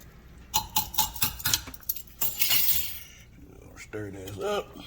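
Utensil scrapes and clinks in a quick run of bright, rhythmic strokes while Creole seasoning is stirred into shrimp etouffee, followed by a softer stretch and then a brief spoken voice.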